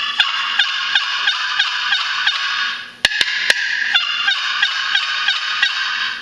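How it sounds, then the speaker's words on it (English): A rhythmic series of raspy, nasal turkey yelps from a wooden box call, its paddle slid across the side, steady and repeated, loud and close with a brief pause midway. "to yelp, you just slide the paddle across the side."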